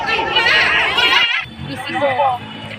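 Crowd at a Rath Yatra festival market, loud overlapping chatter with children's voices, which drops abruptly to quieter murmuring and nearby talk.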